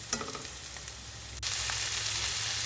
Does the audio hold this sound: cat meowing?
no